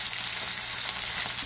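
Fish fries in a pan, giving a dense, steady hiss and crackle of hot oil that stays close and constant, with no voices over it.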